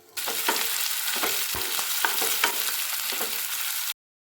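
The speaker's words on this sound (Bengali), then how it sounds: "তেলটা গরম হয়ে গেলে আমি এর মধ্যে প্রথমেই দিয়ে দিচ্ছি পেঁয়াজ কুচিগুলোকে" Chopped onions sizzle steadily in hot oil in a wok, a dense continuous frying hiss with occasional scrapes and stirring knocks, close and loud, cutting off abruptly near the end.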